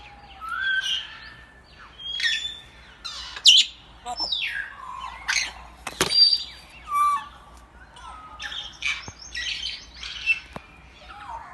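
Yellow parrots calling nearby at a wildlife park with scattered squawks, whistles and chirps, irregular bursts separated by short pauses, no talking.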